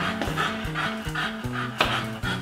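A dog panting rapidly and steadily close by, with rhythmic breathy puffs and faint whiny tones woven through.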